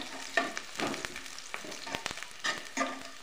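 Onion frying in a pan for a chivda bhaji, with intermittent stirring scrapes and soft sizzling bursts at close range, quiet overall, no talking.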